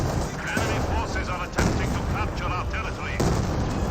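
Katyusha rocket barrage in Company of Heroes 2, a dense, continuous roar of rapid launches and impacts with sharp bursts near 1.6 and 3.2 seconds, loud and close, with whistling tones woven through.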